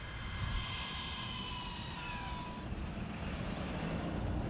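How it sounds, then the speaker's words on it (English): A truck approaches and passes on a road, a loud, steady broadband rumble of engine and tires that fills the whole stretch, with no voices. "Here comes a truck."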